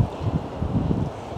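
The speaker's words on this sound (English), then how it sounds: "Got a little gust of wind going on here today." A blustery gust of wind rumbles outdoors on a downtown street, a steady low buffeting roar with irregular swells across the moment and no voices.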